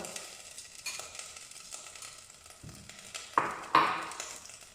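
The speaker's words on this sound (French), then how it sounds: "Pour la béchamel, nous allons faire fondre un peu de beurre" Butter melting in a pan for béchamel, a soft sizzle with light stirring and a couple of sharp metallic clinks of utensil on pan, close and quiet, with no talk.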